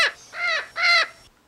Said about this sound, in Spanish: ¿Qué ha sido ese ruido? Parecen pájaros.